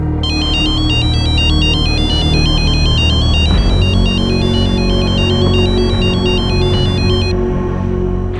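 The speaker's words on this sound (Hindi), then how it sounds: "फिर से फोन लगा दो, मैं बात करूंगी।" A phone ringtone repeats a steady electronic melody throughout, loud and alone with no talk, as a call is placed to someone's phone.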